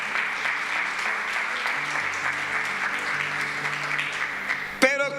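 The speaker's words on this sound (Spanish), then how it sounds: "Dele palmas al Señor." Church congregation clapping hands for the Lord during a Spanish-language service, steady rhythmic applause with music or voices underneath and a brief sharp sound near the end.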